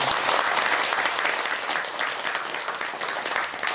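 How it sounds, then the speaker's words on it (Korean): Steady, dense clapping from an audience at a Buddhist dharma assembly in Korea, continuous and loud for the whole stretch with a slight dip midway and no speech over it. "우리 도제 스님 위해서 박수 한번 더 칠게요."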